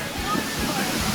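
A waterfall near Dublin rushes steadily as a broad, constant roar of falling water, heard up close with no break.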